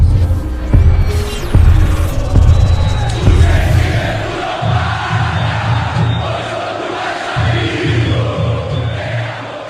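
A football channel's intro jingle with a loud stadium crowd chanting and roaring over a pounding, rhythmic bass beat, the cheering swelling in waves throughout.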